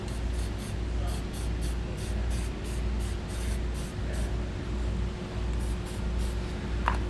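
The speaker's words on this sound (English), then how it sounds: "we're going to take some Rust-Oleum paint and we're going to spray the bare metal" Repeated short hisses of a Rust-Oleum aerosol spray can coating bare metal in quick bursts, steady and close, over a low background hum.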